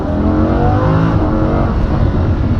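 Lamborghini Huracan with a 7-speed dual-clutch transmission accelerating at full throttle: a loud, close, continuous engine roar that climbs steadily, broken by brief dips at the gear shifts.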